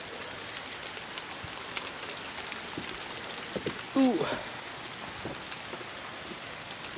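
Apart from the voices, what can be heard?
rain falling outside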